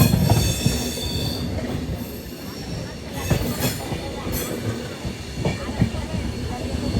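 The Prasanti Express rolls along the rails near Yelahanka, heard from on board as a steady rattling rumble with repeated clacks from the wheels and thin squeals, while muffled voices talk in the background.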